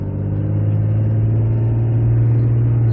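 A 6.7 Cummins diesel truck engine with a non-VGT turbo pulls under acceleration, a loud, steady low rumble heard from inside the cab that builds slightly over a few seconds.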